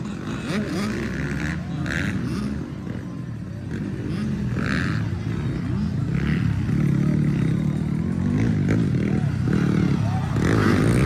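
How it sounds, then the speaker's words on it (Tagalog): Motorcycle engines roar and rev continuously under loud, excited commentary during a ladies' heat at the T'nalak festival in Tantangan, South Cotabato, the engine noise swelling and fading as bikes race past. "Sigsag-sigsag ang motor niya rin, Laredo."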